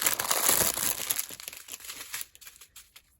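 A small plastic sachet of diamond painting rhinestone beads is torn open up close, giving a dense burst of crinkling and crackling that thins out into a few scattered rustles.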